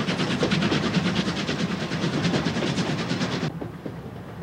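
A C11 steam locomotive hauls a mixed freight-and-passenger train along a mountain river valley, its steady rhythmic chuffing and clattering wagons loud and close for about three and a half seconds before dropping away sharply.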